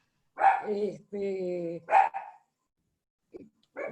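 A dog barks in a few sharp, close bursts with a brief whining yelp between them, then falls silent before a couple of fainter yips at the end.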